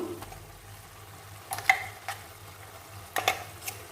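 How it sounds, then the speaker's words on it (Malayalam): Quiet scraping and stirring of ground coconut into a frying chicken curry, a soft sizzle underneath, a few sharper clinks of a spoon against the pot. "ഞാൻ ഇതിലേക്കാണ് അരച്ച് വെച്ചിരിക്കുന്ന തേങ്ങ ചേർത്ത് കൊടുക്കുന്നു."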